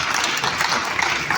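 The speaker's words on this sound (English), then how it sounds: "Yes, that deserves a round of applause." Audience applause at an awards ceremony and business summit in Lagos, a dense, even wash of clapping filling the whole short moment with no voices.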